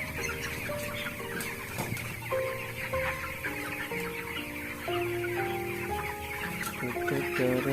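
Twenty-three-day-old chickens on a poultry farm cluck and chirp steadily as a crowded flock, moderately loud, over a melodic tonal background, with no talking.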